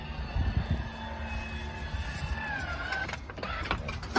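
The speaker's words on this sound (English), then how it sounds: "So just press and hold out, awning will make its way out." An electric awning on a 2019 Tracer 20RBS travel trailer extends with a steady motor whine and a rising mechanical hum, ending with a few clicks and clunks as it stops.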